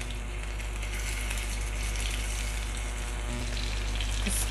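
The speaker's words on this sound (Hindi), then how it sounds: "अब हम ये पनीर इसमें डालकर फ्राई कर" Paneer frying in hot oil over a lowered gas flame gives a steady, dense sizzle that stays even and close throughout, with no voices.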